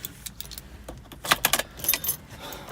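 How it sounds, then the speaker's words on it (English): Car keys jangle in short metallic bursts inside a camper van in a McDonald's car park, several quick shakes close by with a quieter rustle between them, no talking. "keys."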